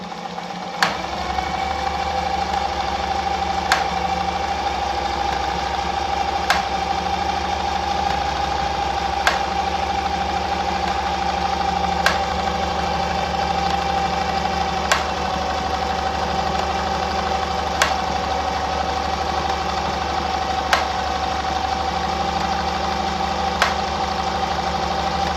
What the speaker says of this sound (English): once you sew right now